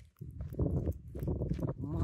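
Horse hooves clip-clopping through an indoor riding arena on a snowy evening, a steady walking rhythm close by with someone speaking over it.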